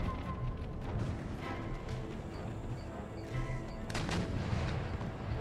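Artillery fire in a battle of the strategy game Empire Total War, with dull booms and bursts of gunfire layered over a constant roar of battle noise at moderate distance, with no talk.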